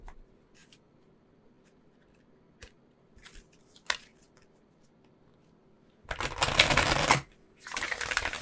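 A deck of oracle cards is shuffled close by after a few faint clicks and taps, with two bursts of crisp riffling hiss, the second following a short pause, and no talking.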